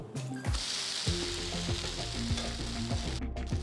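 Set dosa sizzling steadily on a hot pan after being flipped, a close, continuous frying hiss with light scraping at the start and no voices.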